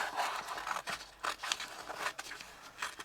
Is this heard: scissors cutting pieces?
yes